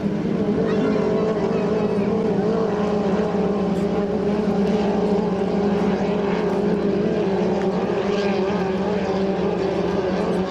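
2.5 litre racing hydroplane boats roaring steadily as they accelerate on the water during a race heat at St-Félicien, a loud continuous engine drone with a commentator talking over it.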